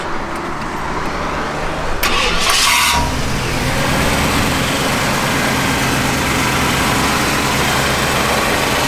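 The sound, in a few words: 1969 Ford XL engine starting and running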